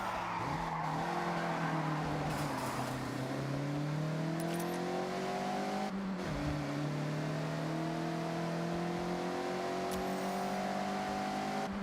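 A Mazda MX-5 drifts through corners in Forza Horizon 6, its engine rising and falling in pitch with gear changes while tire squeal runs underneath, loud and close with no talk.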